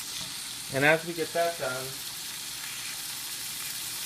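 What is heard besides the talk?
beef browning in a hot pan for Thai curry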